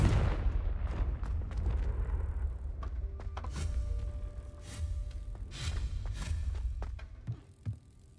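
A Confringo blasting spell goes off in Hogwarts Legacy with a series of booming bursts over a dense, rumbling game soundscape, each blast rising sharply and then rolling away.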